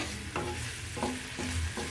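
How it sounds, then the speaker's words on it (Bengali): Onions and garlic fry in oil while a spatula stirs them, a steady close sizzle broken by several scraping strokes about every half second. "যাতে পেঁয়াজটা একটু হালকা ভাজা ভাজা হয়।"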